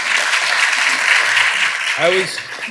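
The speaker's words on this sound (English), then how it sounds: "Just a round of applause here." A conference audience applauds in a steady wash of clapping for about two seconds, then a voice briefly cuts in as the applause fades.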